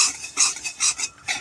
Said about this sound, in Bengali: এবার আমি এটাকে ভেজে নেব ভালো করে, একটু শুকনো করে ভাজতে হবে এটা